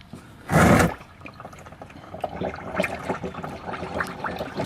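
A brief, loud liquid gurgle from an oil leak on a 186k-mile Nissan Altima, followed by softer dripping and trickling.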